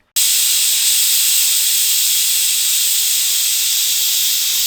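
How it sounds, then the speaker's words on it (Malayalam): Steady, loud steam hiss from a pressure cooker cooking beef for a Kerala-style tapioca and beef dish, starting abruptly and holding continuously with no talk. "എന്നിട്ട് കുക്കർ അടച്ച് കുക്കറിലാണ് നമ്മളിപ്പോൾ ഇത് വെക്കുന്നത്."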